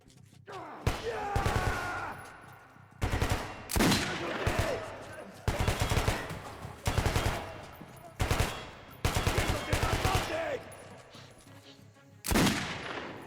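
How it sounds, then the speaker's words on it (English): Shotgun blasts in the game Metro: Last Light, about six loud booming shots in irregular bursts with echoing tails and mechanical clatter between them. "Oh, that's the shotgun. This is a shotgun revolver?"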